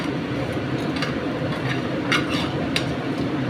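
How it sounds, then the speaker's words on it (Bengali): A spatula stirs Goan chicken fry in a pan with the heat switched off, making a steady low rumbling scrape broken by a few sharp clicks of the utensil against the metal. "আমি বন্ধ অবস্থাতেই কিন্তু এগুলো নাড়ছি।"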